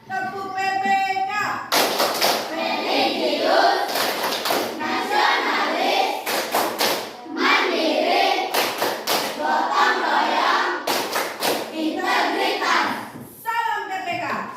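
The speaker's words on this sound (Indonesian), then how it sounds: "kita akan melakukan tepuk dan salam PPK." Indonesian classroom children do the rhythmic PPK clapping chant, bursts of loud group hand claps in patterned rhythm alternating with the children's unison chanting voices, close and lively throughout.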